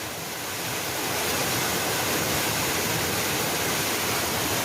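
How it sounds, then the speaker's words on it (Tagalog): Water cascades over rocks at a three-tiered waterfall that plunges into a deep pool amid boulders, making a loud, steady, unbroken rush that swells slightly at the start and then holds with no voices. "Tatlong lagaslas ito. Ayan, yung lagaslas."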